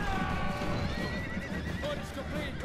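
Horses whinnying amid a cavalry battle in Rome: Total War, several loud neighs over rumbling hooves and clamor of fighting, with a voice talking over the din.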